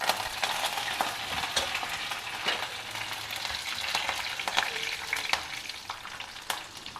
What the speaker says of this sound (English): Heat 2 tablespoons of oil. Add some mustard seeds, some urad dal, a few curry leaves